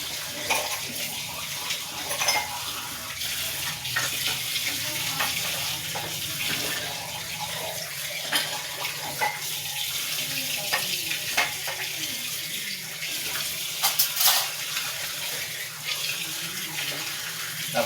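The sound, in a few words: water running from tap while washing dishes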